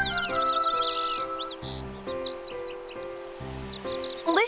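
Bright, tuneful birdsong trills in Kingdom Hearts III's Kingdom of Corona, with quick chirps and whistled phrases repeating over a few measures against a sustained melodic backing.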